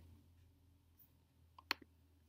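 A single crisp computer mouse click up close in a quiet room during a Google Sheets spreadsheet task, heard alone after a faint earlier tap.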